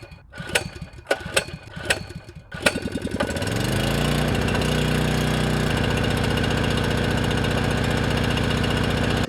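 Small gas generator powering a sewer grinder pump setup, first a few loud pull-start tugs and sputters, then the engine catches and runs at a steady, loud, buzzing drone close by.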